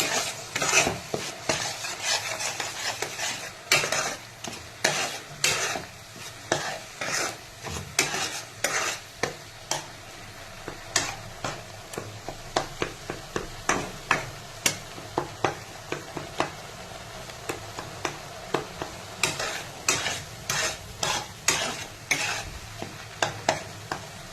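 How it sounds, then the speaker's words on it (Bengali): Onions fry with spices in a hot pan, a steady sizzle with repeated scraping and stirring strokes of a utensil, rhythmic and close, no talking. "এবার পেঁয়াজটা একটু ভাজা ভাজা হতে হবে"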